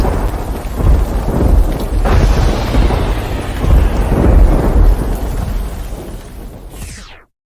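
A thunderstorm sound effect rumbles loudly for about seven seconds, with rolling thunder cracks and rain-like hiss, ending abruptly.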